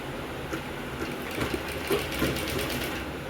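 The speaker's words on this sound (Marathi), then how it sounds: "इथे अशी 1/2 इंचावरती एक टीप मारून घ्यायची" A sewing machine runs steadily, stitching the katori cup section on the front part of a blouse, with a continuous close mechanical whir and faint rhythmic ticking throughout.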